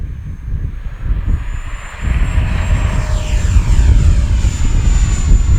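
Freewing L-15 64mm electric ducted-fan RC jet on its maiden flight, a loud continuous whooshing whine that grows fuller and nearer after a couple of seconds, with no voices.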